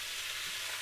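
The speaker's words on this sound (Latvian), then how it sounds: "Vienkārši tagad apcepam, forši nobrūžinam, kārtīgi." Ingredients brown in a hot pan, giving a steady, soft sizzle and crackle with no voices.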